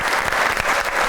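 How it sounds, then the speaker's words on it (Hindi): A studio audience on a talk show breaks into brief, loud clapping, a close, dense patter of hands lasting only a moment. "तालियां।"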